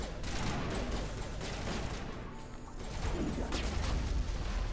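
Gunfire in the video game Mass Effect: Legendary Edition, a dense crackling volley of shots that runs on steadily, fairly quiet and without talk.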